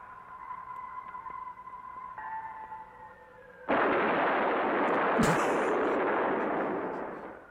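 A science-fiction film scene with electronic beeping tones, then a sudden loud burst as an artillery battery opens fire, sustained roaring blasts and a sharp crack before the roar tails off.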